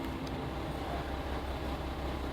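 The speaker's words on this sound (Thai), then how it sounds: "ไปขึ้นรถไฟกันดีกว่าค่ะ" A small local train runs steadily near Oharа station in Chiba, Japan, giving a continuous low rumble and rolling hum with no talk over it.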